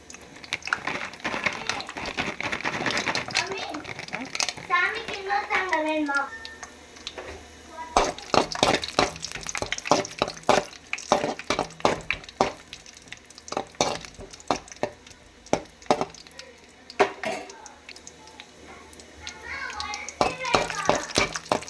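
Raisins fry in ghee with a soft sizzle under stirring, followed by a stretch of sharp, rapid spoon scrapes and clatter against the pan, with voices speaking over parts of it.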